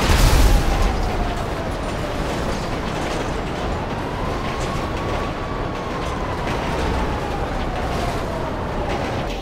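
Explosions and wreckage noise from cars blown up after a train collision in GTA 5, a loud burst at the start followed by a sustained roaring rumble with a wavering tonal whine throughout.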